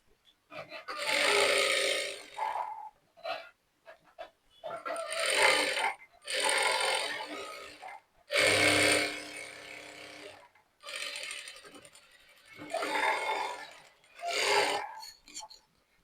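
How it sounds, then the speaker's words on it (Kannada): Sewing machine stitching along a folded fabric edge while making a belt strip for a garment: several bursts of fast, whirring mechanical stitching, each lasting a second or two, separated by short pauses, close and fairly loud. "ಎಡ್ಜಲ್ಲೇ ಒಂದು ಸ್ಟಿಚ್ ಹಾಕೊಬೇಕಾಗುತ್ತೆ ಹೀಗೆ ಸ್ಟಿಚ್ ಮಾಡಿಕೊಂಡು"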